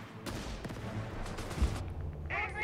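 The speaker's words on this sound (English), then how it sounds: "Let's fire some artillery." Artillery and small-arms gunfire from the World War II strategy game Company of Heroes 3, a dense volley of distant, muffled shots and booms rolling continuously, with a brief brighter burst near the end.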